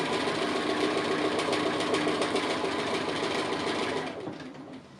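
A sewing machine stitches along the edge of a fabric applique with a loud, rapid, steady mechanical whir that slows and fades in the final second.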